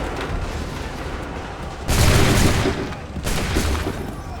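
Musket volley gunfire in Assassin's Creed 3 Remastered, heard as two loud, broad blasts of massed shots, one after the other, over steady battlefield ambience with commands called out nearby.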